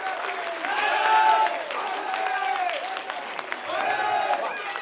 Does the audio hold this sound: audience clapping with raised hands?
yes